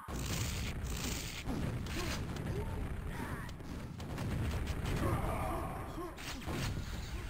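Rocket explosions in the Quake video game QuakeWorld on the Aztec map, several booming blasts at irregular intervals amid continuous dense combat noise.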